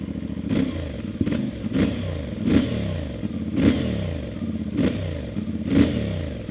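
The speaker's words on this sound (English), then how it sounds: "let me start it up and give you a little sample of the noise" CF Moto 450 MT motorcycle with a 270-degree crank, idling in neutral with a steady lumpy thrum punctuated by roughly regular blips of the throttle, close and fairly loud.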